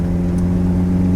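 A 1967 Alpine A210 race car engine runs at steady high revs, a loud, close, buzzing drone held evenly for a moment with no talk over it.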